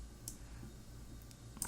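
Faint computer mouse clicks and keyboard key presses during graphics software work, a few quiet, sharp isolated ticks spaced across a short, otherwise quiet moment.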